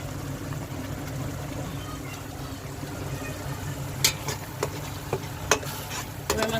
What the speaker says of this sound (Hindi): मसाला पक रहा है,